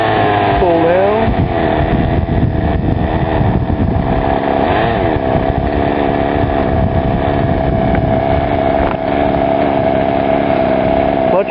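A small Radikal G30 two-stroke engine with a three-shoe clutch runs loud and close, buzzing steadily with shifts in pitch as the clutch engages and disengages, while voices talk over it.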